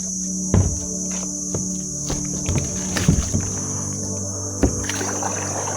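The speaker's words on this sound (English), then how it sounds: "kayaking through the forest in Surat Thani on a beautiful Saturday morning" A kayak paddles through forest waters in Surat Thani, Thailand, on a morning outing. Soft paddle splashes and knocks land irregularly over a constant background of insect and cricket chirring.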